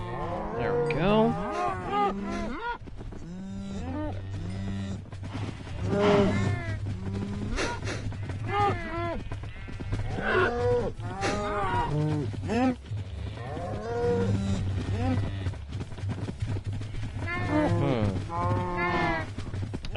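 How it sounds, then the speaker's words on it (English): Cows in Minecraft Bedrock Edition moo over and over, several overlapping low drawn-out calls packed closely together, loud and continuous with a low background hum. "I do have one cow too many."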